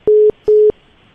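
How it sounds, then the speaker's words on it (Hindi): A telephone line tone during redialing: two loud, steady tone bursts with a short gap between them, heard alone and close on the line. "अब यही नंबर रीडायल कर रहा हूँ मैं"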